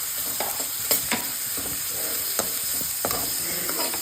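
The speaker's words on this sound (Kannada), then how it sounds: "ಫ್ರೈ ಮಾಡಬೇಕೀಗ." Onions frying for egg keema in a pan, a continuous close sizzle with repeated spatula stirs and scrapes spread through, steady and without speech.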